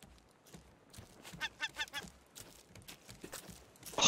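A goose-like bird in the Raft survival game honks several times in a quick series, close and fairly loud, after a quieter stretch, with a loud burst at the very end.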